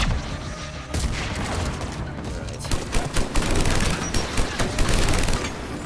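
Rapid automatic fire from a rev-up gun in the video game Mass Effect 3: a dense, continuous stream of loud shots that builds after about a second and keeps hammering with pulsing bursts to the end.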